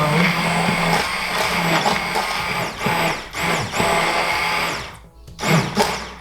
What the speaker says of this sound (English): so I just use an emulsifier and get it broken up a little bit